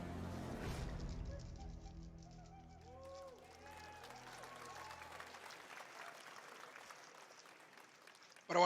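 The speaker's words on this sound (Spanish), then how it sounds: "se nota por los aplausos que la gente todavía no está entusiasmada del todo" Brief, modest applause from a live audience at Summer Game Fest 2023 rises at the start and quickly thins to scattered, faint clapping, leaving a quiet background with soft tones.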